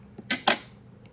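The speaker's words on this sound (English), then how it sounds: "Now let me cut the inside for you to see." A knife cuts open a small sourdough dinner roll with two quick crisp crackling slices, close and brief in a quiet room.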